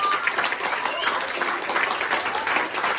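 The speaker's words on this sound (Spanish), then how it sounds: "Aplauda a Jesús" A church congregation applauds steadily throughout, a dense continuous wash of clapping from many hands, with a voice faintly present beneath it.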